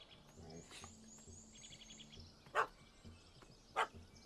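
A puppy in The Witcher 3 gives two short, sharp barks a little more than a second apart, over a quiet outdoor backdrop with faint bird chirps.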